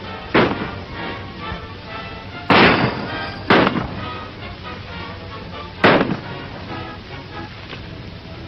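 Gunfire in a 1937 western shootout: four loud, sharp shots spaced unevenly across the stretch, each with a short echoing tail, over a low background hum.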